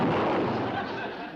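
Gunfire in a 1960s TV comedy scene, a single loud booming blast that fills the clip and slowly decays.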